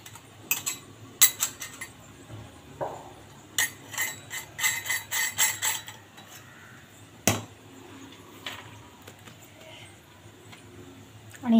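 An oiled metal mould being fitted into a snack press for Diwali snacks gives sharp metallic clicks and ratcheting clatter in irregular bursts, close by and fairly quiet between the clanks.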